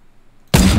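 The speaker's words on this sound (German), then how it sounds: "Ich habe einmal geschossen." A single loud gunshot blast from the video game Fortnite bursts in after half a second of near silence and rings out broadband to the end.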